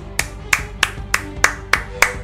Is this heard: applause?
yes